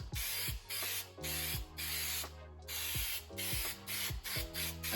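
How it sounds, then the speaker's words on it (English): Aerosol spray hitting carpet lining inside a truck topper camper, a close series of sharp hissing bursts in a fairly regular rhythm with brief gaps between, and no talking. "And you start spraying it. And you spray the carpet, just one pass."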